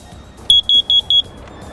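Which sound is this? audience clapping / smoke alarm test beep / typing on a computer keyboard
smoke alarm test beep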